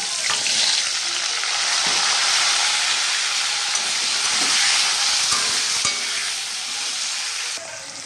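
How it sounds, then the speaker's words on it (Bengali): Potatoes frying in hot oil with cumin seeds, a loud, steady close-up sizzle with bursts of hiss that carries on without a break and eases slightly near the end. "এখানে আলু ভাজা হয়ে গেছে।"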